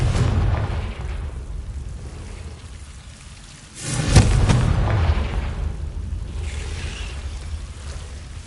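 A Confringo blasting spell bursts in Hogwarts Legacy, one sharp booming explosion after a quiet stretch, followed by a rumbling, roaring tail that lingers loudly to the end.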